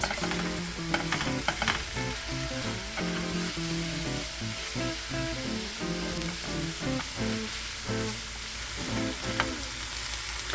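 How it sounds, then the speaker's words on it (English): Mushrooms and onions fry in a pan and are stirred so nothing sticks, giving a steady sizzle with frequent scraping and clinking of a utensil against the pan throughout. "This will keep the onions from burning as the mushrooms start to come to heat."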